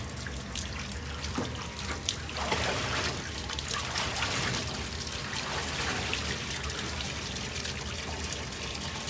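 Water pours steadily from a tap into a tub being filled to rinse raw wool fleece, a continuous trickling splash heard close up and alone for the whole stretch.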